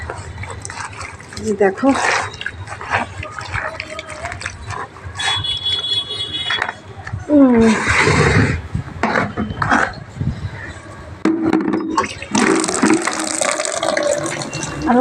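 Water runs into a bucket to soak laundry with detergent, a steady splashing fill heard close, with frequent talking over it.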